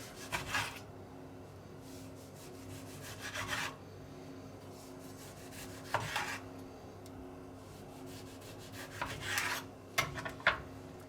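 A knife slices food into rings on a board, giving bursts of rasping, scraping cuts spaced a few seconds apart, close and fairly quiet, with no talk.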